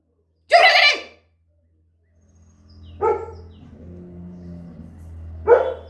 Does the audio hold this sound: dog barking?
yes